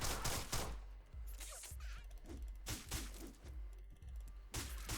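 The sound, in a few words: gunshots in the video game Deadbolt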